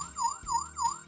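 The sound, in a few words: baby toy car key alarm siren sound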